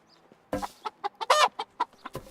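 Chickens cluck in the farming game Medieval Dynasty, a quick run of about ten sharp, close clucks in an irregular rhythm after a brief quiet start.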